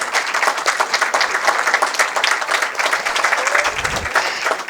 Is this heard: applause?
yes